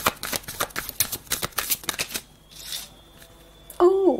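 Tarot-style cards are shuffled up close in a quick run of crisp riffling flutters, then a pause and a brief voice near the end.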